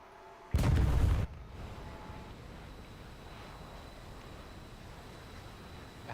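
A semi-active radar missile launches in a combat flight game: a loud, dense whoosh-roar bursts in abruptly for under a second, then drops to a steady lower rushing hiss that carries on to the end.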